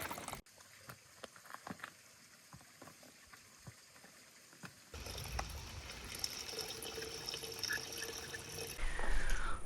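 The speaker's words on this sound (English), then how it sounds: "We are gonna fill up all of our water bottles for tonight before we go and set up our camp." Water bottles are filled at a trailside water source on the Appalachian Trail, a steady rushing pour running loud and continuous over the second half after quieter dripping and splashes.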